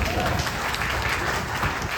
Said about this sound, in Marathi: फार सुद्धा टाळ्या वाजवायला लागल्या